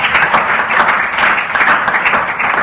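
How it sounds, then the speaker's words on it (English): An audience applauds loudly at an event, a thick, even roar of many hands clapping together, sustained without a break through the short span. "Please give me a round of applause, please."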